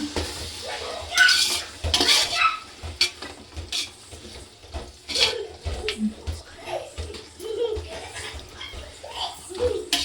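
A spoon stirring dum biryani masala paste in a cooking pot, with intermittent scraping and clinking strokes at close range, broken by pauses and a voice talking in between.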